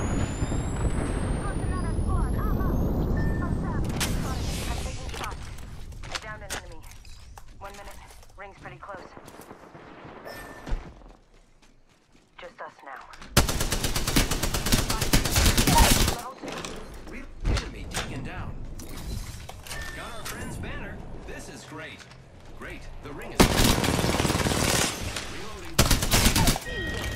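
Gunfire during an Apex Legends match, with rapid automatic bursts and scattered shots, some close and loud, others more distant, mixed with explosions and game effects and a player talking over much of it.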